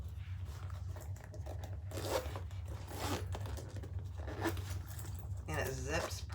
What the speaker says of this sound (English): And it zips perfectly.